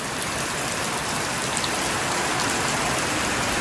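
Heavy December rain in Bicol pours down in a dense, steady hiss that fills the whole clip, loud and unbroken, with no voices.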